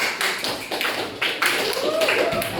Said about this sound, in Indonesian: Tepuk tangan untuk Okta.